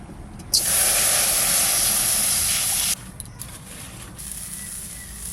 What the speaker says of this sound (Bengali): কড়াইতে যে তেল আছে ওই তেলের মধ্যে আমি জল দিয়ে দেবো